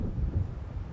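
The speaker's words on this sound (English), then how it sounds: "It seems there's a storm coming" Low, rumbling thunder from an approaching storm rolls in the video game Alan Wake, heavy and sustained with wind-like noise over it and no voices.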